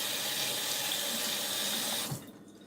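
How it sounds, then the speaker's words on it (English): A kitchen tap runs in a steady close rush while hands are rinsed beneath it, then the flow cuts off abruptly near the end. "I should wash off my hands real quick"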